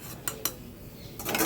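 Softened coriander leaves go into a mixer jar with a couple of sharp clinks early on. A longer rustling, clattering scrape follows near the end. No voices are heard.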